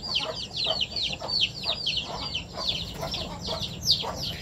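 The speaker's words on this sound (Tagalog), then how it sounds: "Ito Francis, yung manok mo dati, yung chicken mo na maliit, saka ni Koy GP." Native chickens cluck in a steady run of short, repeated calls, fairly close and alone, with a faint low hum of farmyard noise underneath.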